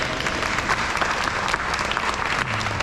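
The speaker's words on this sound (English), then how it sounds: "we can go ahead and give that a round of applause" A crowd at an airshow opening ceremony claps loudly and continuously, a dense steady patter of applause throughout.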